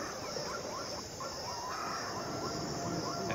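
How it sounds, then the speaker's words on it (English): Shrill bird and animal cries in the video game 80 Days rise over a dense, steady jungle-like ambience, with repeated squeals and calls scattered throughout at moderate loudness. "pierced with the sounds of shrieking birds and animals"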